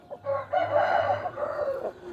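A rooster crows once, a loud, close, drawn-out cock-a-doodle-doo with a rising start and a long held middle, heard alone with no talking.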